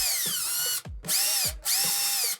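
A power drill backs out a Phillips screw from an RV roof vent handle in three short, close whirring bursts with brief pauses between them.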